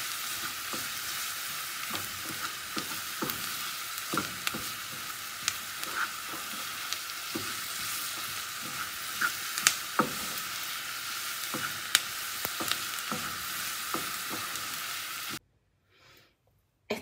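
Onion caramelizing in a pan for a burger, a continuous bright sizzle with scattered pops and crackles and occasional spoon scrapes, close and steady, cutting off abruptly near the end.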